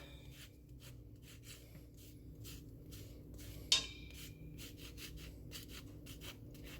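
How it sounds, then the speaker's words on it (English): Lemon being zested for lemon cooler cookies, a soft, rapid scraping and rubbing repeated in short strokes, close and quiet, with one sharper knock partway through. "we got to do the zest of 1 lemon"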